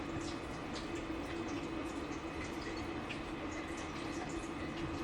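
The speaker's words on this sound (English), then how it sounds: "So I'm going to drain the water off." Water draining off steamed cauliflower, carrots and broccoli, a steady, quiet rushing pour that holds evenly the whole time with no pauses.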